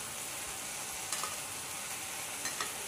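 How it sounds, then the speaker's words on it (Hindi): Tomato chutney with jaggery being stirred in a pan, a steady soft sizzle with a few faint scraping strokes, no voices. "गुड़ डालने के बाद फिर इसको अच्छे से चलाते रहना है कम से कम 5 मिनट"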